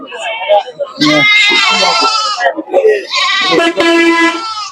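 Native goats bleating loudly and repeatedly at close range at the Uthura market, several long wavering calls overlapping with a busy market crowd in the background.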